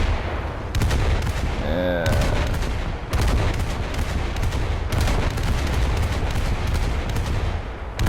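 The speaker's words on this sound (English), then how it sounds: "I also like shooting these ships like this when they can't even see me." Naval guns fire at ships in the War Thunder combat game, with loud repeated cannon booms and sharp blasts over constant engine and battle noise, one whistling shell sound among them.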